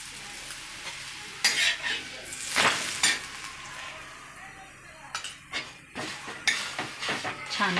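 Bottle gourd paratha roasting in oil on a pan, with a soft sizzle and scattered sharp scrapes and taps of a spatula, some louder bursts, and a voice talking now and then.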